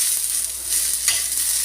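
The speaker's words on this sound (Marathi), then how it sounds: "आता मी कोथिंबीर आणि आलं लसूण सर्व टाकून हे पण थोडं परतून घेते त्याच्यात" Grated coconut with coriander, ginger and garlic sizzling steadily in hot oil for a fish curry masala, with soft stirring scrapes in the pan, close and continuous, no voices.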